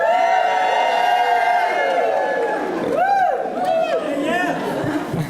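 An awards event crowd at the 2019 PRISM Awards yelling and screaming together for a group selfie, a loud, dense roar of whoops and cheers filling the whole stretch.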